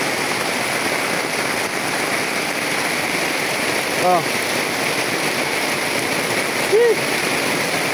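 Heavy rain pours in a constant loud hiss, with two brief voiced sounds rising over the downpour.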